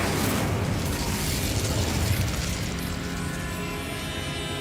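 Incendio fire spell cast in the video game Hogwarts Legacy: a broad, roaring whoosh of flame with a rumbling low end, sustained and loud throughout without any voices.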